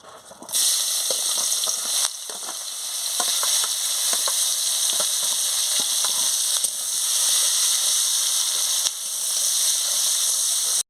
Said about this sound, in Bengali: তেলটা গরম হয়ে গেছে, এবারে পেঁয়াজ দিয়ে দিচ্ছি, তেজপাতা দিয়ে দিচ্ছি।